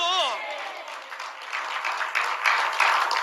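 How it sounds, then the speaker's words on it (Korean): Applause from a church congregation breaks out after a voice briefly speaks, a dense clapping crowd that swells gradually and stays loud to the end. "박수."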